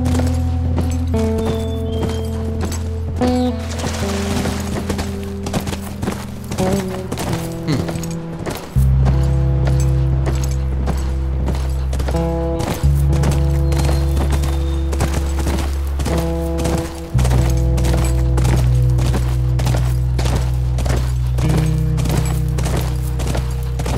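Horse hooves clip-clop in The Last of Us Remastered, a steady run of hoofbeats carried under a loud, sustained game soundtrack, with no talk.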